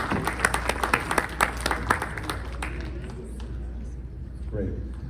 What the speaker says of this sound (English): Let's give our esteemed panel a warm round of applause.